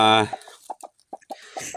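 Heritage native chickens cluck in short, separate bursts close by on a farm, with a brief higher call at the start and a scattering of soft clucks after.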